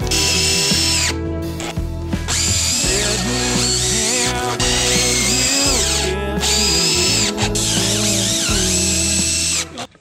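A power drill driving metal screws into a reinforced bay window frame, loud close whining bursts in several long runs with brief pauses between, revving up and down as each screw goes in, with no talking.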